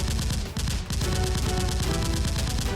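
Rapid gunfire in a mock shootout staged with Nerf blasters in an abandoned setting, a dense continuous volley of sharp repeated shots with a brief gap, loud and close with no talking.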